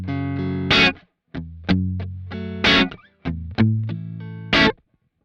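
An electric guitar plays through the crunch channel of a blue amp set just short of breakup with a little gain, giving short chords and a few sustained notes with gaps between them.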